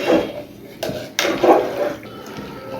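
A pot of khichuri with meat boils on the stove, giving short wet bubbling bursts and pops that come close and fairly loud in uneven clusters.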